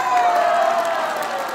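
A forum audience gives a pastor a second round of applause, loud clapping with cheering and scattered shouts from the crowd that slowly tapers off.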